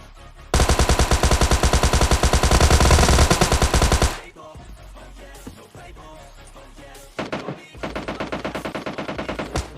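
Video game gunfire: a long, loud spray of rapid automatic shots, then a quieter stretch of scattered pops, then another sustained automatic burst near the end, with no speech.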